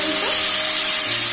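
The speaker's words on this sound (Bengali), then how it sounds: "এটাকে ভালো করে নাড়িয়ে আমি লাল লাল করে ভেজে নিয়েছি" Cauliflower fries in a pan for phool kopi bhujia, a loud close hiss with faint tones and a low rumble, brief and without speech.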